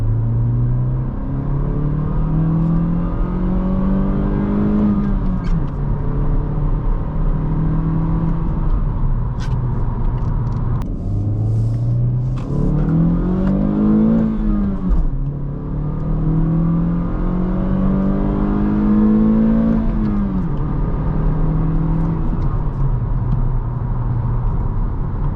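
A 2022-2024 Honda Civic Sport hatchback with a 2.0-litre engine and manual gearbox revs up with intake growl, its note climbing and dropping repeatedly as it shifts through the gears, loud and steady with no talking.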